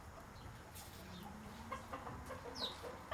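A chicken clucks in short, soft, scattered calls over a low background murmur, fairly faint and close, with no speech.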